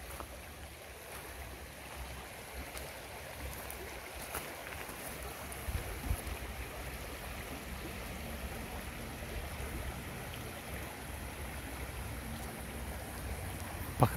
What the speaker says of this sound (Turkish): Suyun sesi gerçekten insanı acayip dinlendiriyor